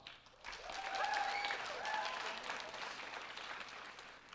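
An audience in a hall, asked whether they favor voting at 16, answers with a faint but sustained wave of applause that swells slightly and then tapers off.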